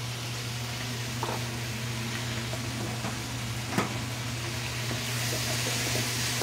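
Carrot, celery and onion mirepoix with whole garlic cloves sizzle in hot pork fat, giving a steady, hissing fry with a low hum underneath and a few small pops and clicks.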